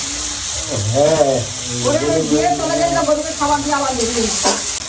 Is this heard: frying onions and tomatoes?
yes